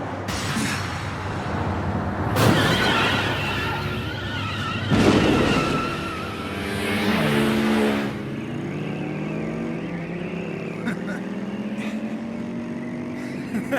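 Racing engines roar loudly in an animated high-speed race, with surging bursts, revving swells and pitch sweeps as the motors climb and fall.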